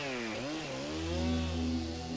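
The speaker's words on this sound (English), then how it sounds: "In this one small area of forest alone, there are 2 chainsaw operators working each day." A chainsaw cuts trees in the Amazon rainforest, its engine bogging down then climbing into a sustained loud whine, close and continuous with no voices.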